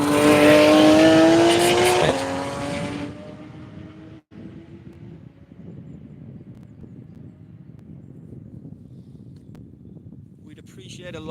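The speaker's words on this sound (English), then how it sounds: "There's an old classic Porsche going around with a race livery on it as well." An old classic Porsche in race livery roars past close by at a track day, loud engine note fading after a couple of seconds into distant rumble and steady ambient noise, with a faint sound near the end.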